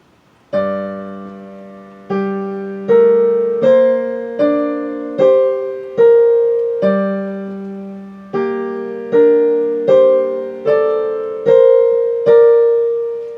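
Piano playing a short two-handed passage, a bass note under a steady sequence of melody notes struck about every second, clear and close with sustained ringing tones.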